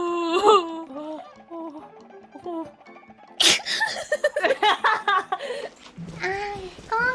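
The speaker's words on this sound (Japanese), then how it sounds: "ダメだ、くしゃみ出た。" A sneeze bursts out sharply in the middle of a Japanese-speaking streamer's chatter, loud and close, with brief breathy sounds after it and talking on either side.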